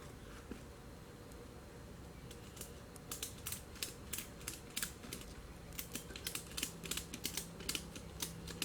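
Ratchet strap being tightened, a run of quick clicking ratchet strokes that starts after a few seconds and continues in rapid bursts, close up and fairly quiet over a low background hum.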